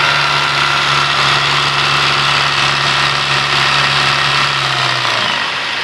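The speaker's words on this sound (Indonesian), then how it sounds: "ketika mobil RPM 2000, kemudian dia terdengar suara kasar." A car engine running rough at about 2000 RPM because its oil is slow to circulate: a loud, steady droning hum that holds for several seconds and then drops away abruptly near the end.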